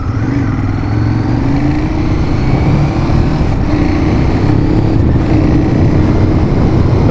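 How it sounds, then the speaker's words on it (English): A Ducati Monster 821 motorcycle pulls away from a shop, its engine a loud, steady drone held for several seconds with no talk over it. "We are pulling away from the shop on the Monster 821."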